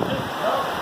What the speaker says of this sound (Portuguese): Nem dá para ir lá fora porque está chovendo muito.